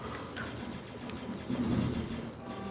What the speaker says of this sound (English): Oh, okay, there are birds again.